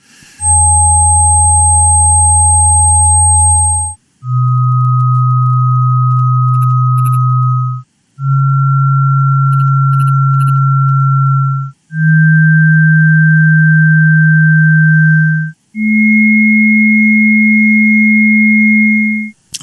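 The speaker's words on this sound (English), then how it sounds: "There'll be 5 tones." A sequence of five steady electronic sine tones played one after another, each held about four seconds with brief gaps, stepping slightly higher in pitch each time, loud and clean with no talking over them.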